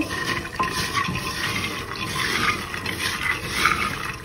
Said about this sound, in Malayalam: നമുക്ക് ആവശ്യത്തിന് വെള്ളം ഒഴിച്ച് കടല വേവിച്ചെടുക്കാം